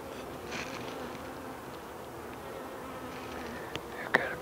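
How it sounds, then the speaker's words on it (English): Honey bees buzz softly around an open beehive during hive work, a low continuous drone with a couple of brief sharp knocks near the end. "I've got a bee buzzing my head."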